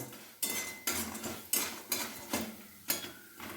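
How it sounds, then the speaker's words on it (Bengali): Crushed lentil dumplings fry in a pan with repeated, evenly spaced bursts of sizzling and scraping as they are stirred, close and moderately quiet with no talk. "বড়িগুলো হালকা করে আমি ভেজে নেব"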